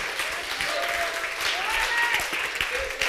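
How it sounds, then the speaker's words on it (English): A church congregation claps in praise during a sermon, a steady sustained round of applause with scattered voices calling out over it. "give the Lord a hand clap of praise"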